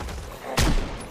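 A single sharp gunshot from a handgun in the zombie survival game Project Zomboid, a sudden loud crack partway through that decays quickly, with a faint hiss before it.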